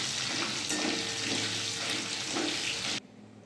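Dried red chillies, whole garam masala, bay leaves and cumin sizzle in hot oil for chicken curry, a loud close frying hiss that cuts off abruptly near the end and leaves quiet.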